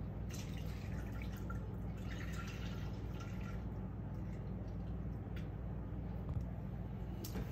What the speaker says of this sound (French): Donc là je vais mettre mes 500 ml de lait.